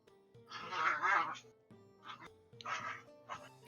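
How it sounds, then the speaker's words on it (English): Dogs play-fighting indoors, with bursts of yipping, growly barks and whimpers coming in uneven clusters, close by, while people talk quietly underneath. "Oh, the dog fight."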